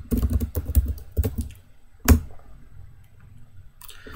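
Quick bursts of close keystrokes clatter on a computer keyboard as a command is entered in a Linux terminal, with crisp clicks, a sharp final keypress and a short pause before more tapping resumes.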